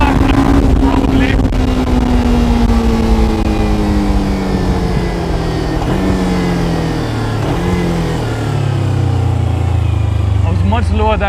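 Kawasaki Ninja 300 sports bike ridden along a rough road, its engine droning steadily and shifting pitch as it revs and eases off, with loud wind rush throughout.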